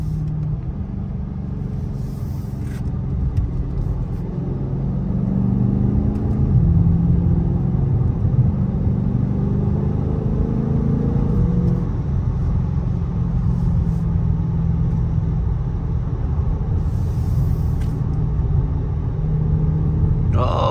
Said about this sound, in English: Factory exhaust sounds amazing.